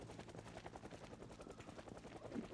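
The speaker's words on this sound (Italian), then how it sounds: "seguire il suono dell'elicottero" A helicopter in the video game Project Zomboid drones with a steady, rhythmic rotor chop, moderately distant and alone with no talk.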